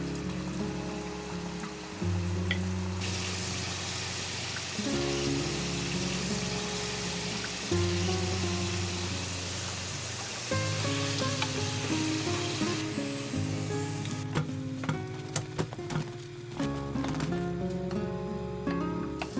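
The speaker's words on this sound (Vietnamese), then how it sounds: "Tiếp tục thì chiên cho đến hết nha các bạn." Pieces of chicken breast fry in hot oil, batch after batch until golden, with a steady soft sizzle running beneath louder background music.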